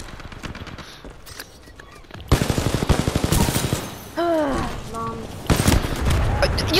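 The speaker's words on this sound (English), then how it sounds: "This guy shot me 3 times!" Video game gunfire in quick rattling bursts, sharp repeated shots mixed with voices talking and exclaiming over the action.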